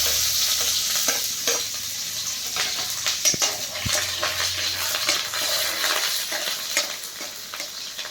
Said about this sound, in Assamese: মানে আপোনাৰ পিঁয়াজ জলকীয়া দিলোঁ তেলত